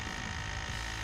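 A 7.3 Powerstroke diesel vacuum pump runs alone and up close, giving off a continuous buzzing electric whine that stays steady and unbroken throughout.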